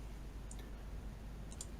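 Two soft computer mouse clicks, about a second apart, sound faintly in an otherwise quiet room.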